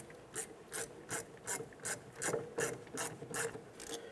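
A 7mm ratchet threading in the brake caliper slider pins on a Jeep Grand Cherokee's rear brakes, about a dozen evenly spaced clicking strokes at close range, with no talking.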